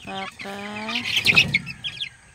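Chickens in a coop give a few short calls, a clucking note followed by brighter chirps, close and moderately loud with no talking.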